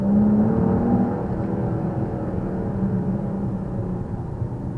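A 2023 Dodge Challenger in sport mode holding a low gear, its engine droning loud and steady at high revs from inside the cabin, easing slightly after the first second.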